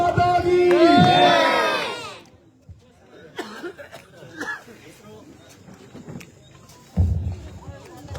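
Crowd at an outdoor village rally in Gujarat loudly shouting a patriotic chant in unison, a strong burst for about two seconds that drops to scattered murmurs, coughs and stray calls before a second louder surge near the end.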